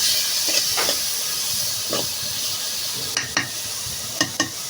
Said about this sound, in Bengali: যখন আমি ছোট মাছটাকে সুন্দরভাবে পেঁয়াজ দিয়ে ভেজে নিতেছি